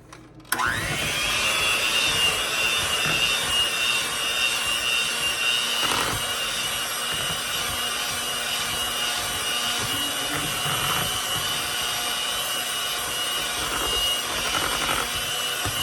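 An electric hand mixer beats an egg into cheesecake batter, a loud, constant whirring drone that starts abruptly and runs steadily for about fifteen seconds with slight wavering.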